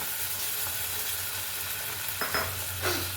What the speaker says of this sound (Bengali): সামান্য নেড়ে চেড়ে নেব বেগুন দিয়ে কষার পরে আমি সামান্য জল এর মধ্যে অ্যাড করলাম